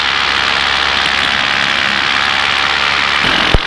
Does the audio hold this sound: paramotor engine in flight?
yes